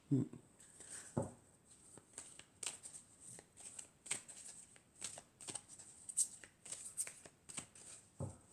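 Oracle cards being shuffled by hand, a quick series of soft riffling flicks and taps repeating close up through the clip, with a quiet voice speaking now and then.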